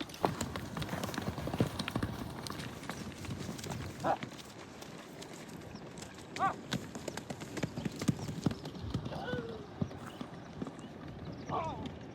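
Horses' hooves clip-clop steadily on the ground while walking and moving at faster gaits, with a few snorts and someone speaking throughout.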